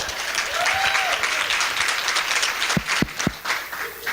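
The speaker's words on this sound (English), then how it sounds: "Y'all clap it up for that." Audience at a live interview event breaks into sustained applause, clapping steady and fairly loud, with a few sharper thumps and a faint voice near the end.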